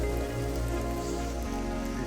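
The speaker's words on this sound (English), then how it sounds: "There is, however, something peaceful about being stuck in the rain while touring." Steady rain falls during a stalled solo road trip through Sulawesi, Indonesia, a dense, even hiss of drops spattering on a surface close by, with no voices and no letup.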